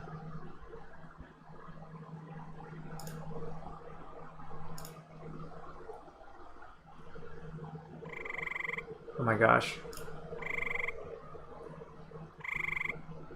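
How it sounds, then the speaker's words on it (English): Frogs croak in a looping ambience sound effect, a steady chorus of low croaks with sharper calls repeating near the end; a voice briefly exclaims over it. "Frogs, ambience."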